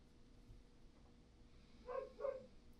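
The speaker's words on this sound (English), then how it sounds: "The dogs are barking." Dogs bark twice in quick succession from some distance, faint against a quiet room's low background hum, with no one talking.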